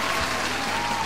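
Steady crowd applause, a dense continuous patter of many hands clapping for about a second, even and fairly loud, with no one speaking over it.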